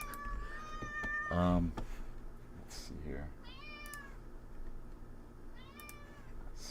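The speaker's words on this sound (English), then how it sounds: "you guys might hear my cat coming in here in a second" A house cat meows repeatedly indoors, several drawn-out, rising cries close to the microphone, with someone talking between and around them.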